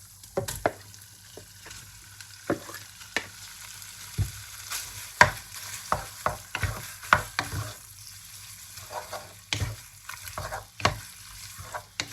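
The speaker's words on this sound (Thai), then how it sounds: "เอาเนื้อลงไปผัดเลยนะคะ" Sizzling and frying of beef in a hot pan with repeated scraping stirs of a spatula, close and steady, no voices.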